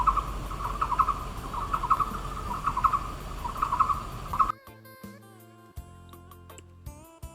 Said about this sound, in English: Indochinese barbet is suddenly very common. You hear them everywhere.